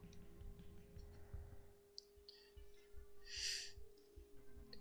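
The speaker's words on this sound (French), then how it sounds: "Un oiseau." A bird calls in the Cassette Beasts video game inside a cave, a short bright chirp standing out over soft game ambience, ticking clicks and a low steady hum.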